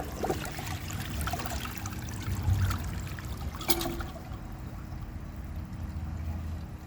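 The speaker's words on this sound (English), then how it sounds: "it's overflowing because this toilet is very easy to overflow despite only using 1 gallon" An American Standard Homestead VorMax toilet overflowing after flushing two washcloths, water trickling and spilling in a continuous quiet dribble with a sharper splash partway through.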